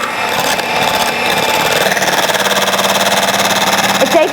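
Egg whites being whisked for a Czech cream sauce, a steady, loud whirring that runs without a break for the whole stretch.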